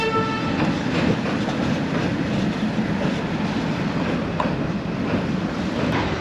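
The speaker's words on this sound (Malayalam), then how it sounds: "ട്രെയിൻ അതിലേ ഇങ്ങനെ വരുന്നുണ്ട്." A long train rolls along railway tracks near Dhanushkodi, a loud, steady rumble with rhythmic wheel clatter filling the whole stretch at close range.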